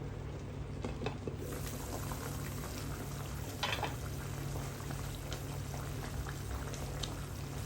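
A pot of dinengdeng vegetable broth at a rolling boil, a dense, steady bubbling and hissing close by, with no voices over it.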